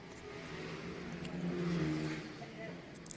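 Junior Supermoto 140 motorcycles racing in a close mini GP race at Rowrah circuit, a moderately loud engine drone swelling and fading as bikes pass, under continuous commentary.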